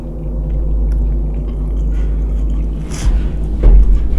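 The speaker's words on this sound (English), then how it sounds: "I can't even feel myself chewing." Close-up chewing of extremely spicy food in a hot-sauce eating challenge, heard as a steady, muffled, wet mastication with a low rumble and a few louder bites near the end; nobody speaks.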